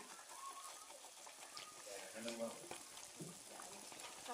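Ariselu, the Telugu rice-flour sweet, frying in hot oil over a low flame, giving a soft continuous sizzle and gentle bubbling with small crackles, fairly quiet and steady throughout.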